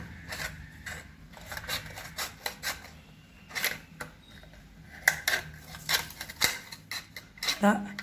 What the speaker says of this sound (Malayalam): ഇതുപോലെ അഞ്ച് ഇതളുകളാക്കാൻ വേണ്ടി കട്ട് ചെയ്തെടുക്കുക